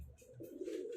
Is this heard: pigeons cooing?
yes